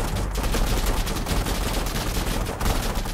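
Sustained gunfire from the video game Insurgency, with rapid, dense bursts of automatic weapons and overlapping shots forming a loud, continuous barrage throughout.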